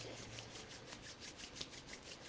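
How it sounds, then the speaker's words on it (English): Two palms rub briskly back and forth against each other, making a quiet, close, rhythmic swishing friction sound with regular strokes. "bring your hands together in front of you and start to rub them back and forth"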